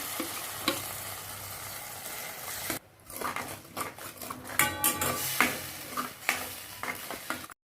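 A spoon stirring a cooking mixture in a pan for dhaba-style palak paneer: close scraping and clinking of utensil against metal over a soft sizzle, in irregular bursts, with a brief pause partway through and no talk.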